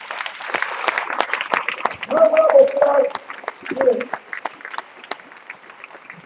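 Church congregation applause as scattered, uneven claps over a few seconds, while a man keeps preaching over the top of it.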